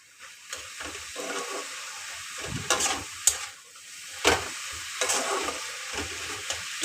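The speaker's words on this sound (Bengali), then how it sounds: "নেড়ে চেড়ে দেবো আর একটু।" Leafy greens frying in a pan while being stirred, a soft sizzle broken by repeated scraping and clattering strokes of a spatula at an irregular pace, close and moderately loud.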